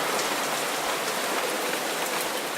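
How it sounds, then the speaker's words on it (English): Steady rain falls in a visual novel scene, a dense hiss of drops hitting a surface with no pauses and no voices. "Enlil stands alone, bathing her whole body in the rain."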